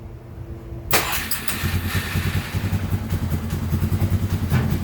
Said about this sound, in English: I'm going to jump start it and see what she does now